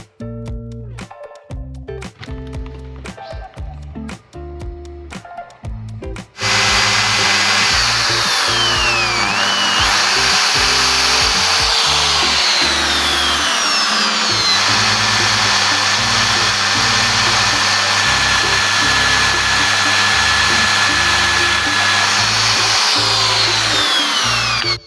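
A power drill bores holes through plywood while building a homemade electronics repair jig, a loud continuous whirring drone that runs steadily for most of the stretch after a few short bursts at the start.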